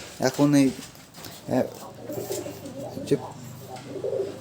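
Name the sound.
pigeons cooing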